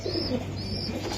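A male white racer pigeon coos close by in soft, low rolling murmurs, repeated twice over a constant background hum with faint chirps from other birds.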